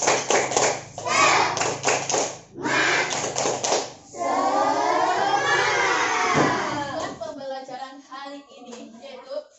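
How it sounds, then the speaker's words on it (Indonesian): A class claps a rhythmic tepuk semangat pattern, bursts of sharp claps in quick groups during the first half, followed by voices chanting and singing together. "Yuk, 1, 2, 3. Tepuk semangat."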